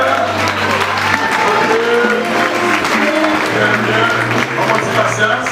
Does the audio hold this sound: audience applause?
yes